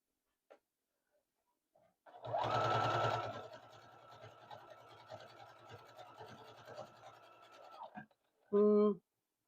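A sewing machine stitches a small fabric pot pincher at a 2.0 stitch length, giving a loud rapid burst that settles into a steady whirring run, then a short sharp clatter near the end.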